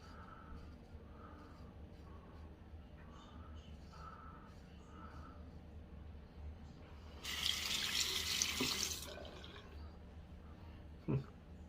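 A straight razor is rinsed under a running tap, a brief bright hiss of water lasting about two seconds amid quiet room sounds and a faint voice, ending with a small clink.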